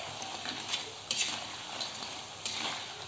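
Butter cookie dough fries in oil over medium-low heat, making a faint, steady crackling sizzle with a few soft clinks from stirring, with no talking.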